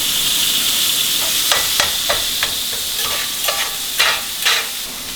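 A burger patty sizzles in hot oil in a pan with a steady hiss, broken by a few scraping stirs and spatula clicks close up, with no speech.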